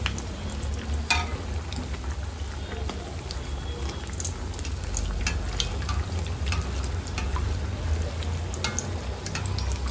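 Semolina sweet cooking in a pan after being flipped gives a steady, soft frying sizzle with faint crackles throughout, with a low background hum and no one speaking.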